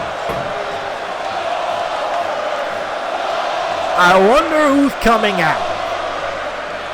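Crowd noise fills a WWE 2K20 wrestling arena on SmackDown as a steady, rumbling background, while someone speaks briefly over it near the end.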